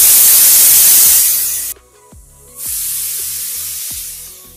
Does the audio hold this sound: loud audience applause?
no